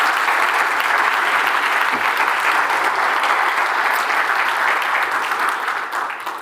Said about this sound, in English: So just a round of applause for everyone, please